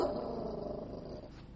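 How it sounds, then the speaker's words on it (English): Chewy the dog growls in a low, steady rumble close by, continuous and fairly quiet with no talk over it. "you hear Chewy growling"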